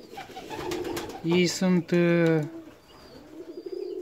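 Young Saxon swallow pigeons, a fancy breed about four weeks old, give a few loud, close coos in quick succession after a brief spoken phrase, then settle into quiet rustling.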